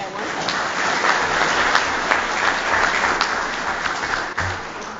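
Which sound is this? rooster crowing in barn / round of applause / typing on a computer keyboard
round of applause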